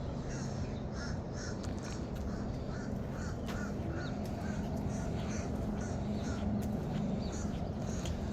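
Crows cawing repeatedly in a suburban Atlanta shopping area, a series of short harsh calls spread through the clip over steady street and ambient noise, moderately distant.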